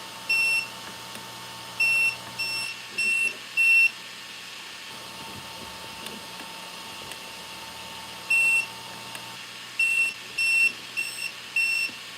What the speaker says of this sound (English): press the program button and listen for the beep